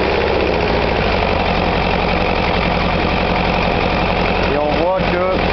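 An engine is started and settles into a loud, steady idle with a rhythmic knocking pulse. Someone speaks over the idle near the end.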